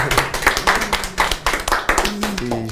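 Audience clapping at a French talk about failure as a virtue, heard as a loose run of sharp, uneven claps over about three seconds, with a voice and some music-like tones mixed underneath.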